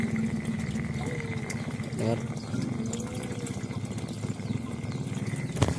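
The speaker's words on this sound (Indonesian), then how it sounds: "Saya tahu kalau aeratornya berfungsi atau tidak. Dengar ada bunyinya." An aerator pump runs in a hydroponic water tank, a steady low hum with soft bubbling and trickling under close-up talk.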